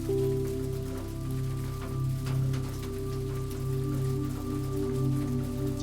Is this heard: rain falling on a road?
yes